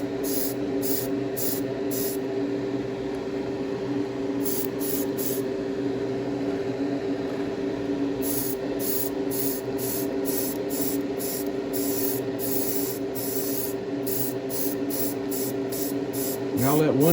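Spray paint applied in layers to weather model boxcars, heard as a steady close hiss running throughout, with rhythmic short pulses of high spray bursts repeating across the clip.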